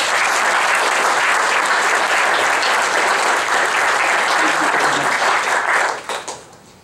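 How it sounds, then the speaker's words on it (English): An audience at a mayor's address applauds steadily and loudly for several seconds before the clapping tapers off quickly at the end. "please join me in a round of applause for Ms. Wilson"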